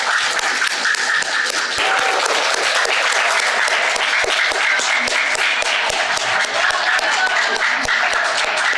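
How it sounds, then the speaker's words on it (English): A crowd applauds the winning high school team at a Muslim youth debate final. The clapping is loud and dense and keeps up for the whole stretch, with sharp individual claps standing out and no talk over it. "Let's get some applause."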